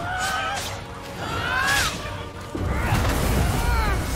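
Poseidon's sea roosters in Immortals Fenyx Rising give squawking, honking fowl calls alongside impact thuds and a booming hit, with a player's voice mixed in.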